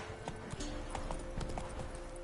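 Hooves of Roach, the horse in The Witcher 3 played on PS5, clip-clop in a quick, even trotting rhythm, close and fairly quiet against a faint background hum.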